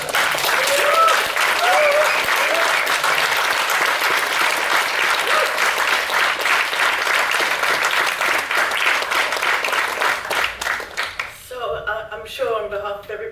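Audience at an ISEA annual general meeting applauds loudly and steadily for Ollie for about eleven seconds, the dense clapping fading out near the end as a voice begins speaking.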